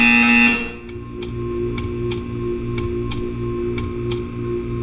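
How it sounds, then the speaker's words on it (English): Repeated buzzer in a Portal-style video game test chamber: a loud tone at the start, then a steady series of short, evenly spaced pulses, roughly two per second, over a constant electronic hum. "You will hear a buzzer. When you hear the buzzer, stare at the art."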